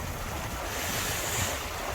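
Creek water flows steadily in front of a rocky outdoor spot, a constant broad rushing wash with no breaks, close and fairly loud, with no talking.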